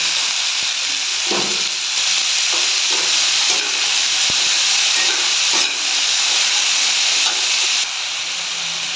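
Vegetables sizzle loudly in hot oil after fried onions, a steady hissing crackle with occasional clinks and scraping stirs, no voices.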